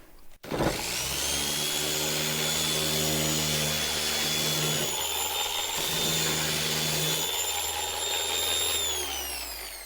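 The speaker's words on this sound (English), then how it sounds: "Here's another example where the sander is striking out here and on the inside" A floor sander grinds across a Douglas fir plank floor in a mountain cabin, a loud continuous motor drone with a steady whine that dips briefly mid-pass and resumes, close and alone without talk.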